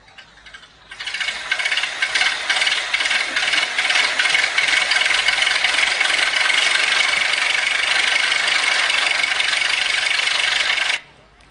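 A motor runs at a steady mechanical rattle for about ten seconds after a sudden start, then cuts off abruptly, loud and close with no talking.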